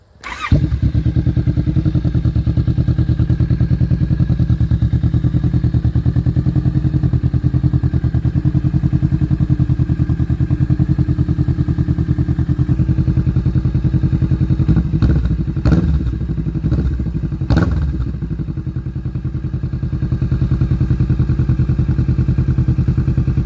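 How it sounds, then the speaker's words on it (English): A 2019 Kawasaki Vulcan S motorcycle fitted with a 21-inch 550mm Delkevic exhaust, running loud and close with a steady deep rumble and a few brief revs late on. "This is 2019 Vulcan S with a 21-inch 550mm Delkevic"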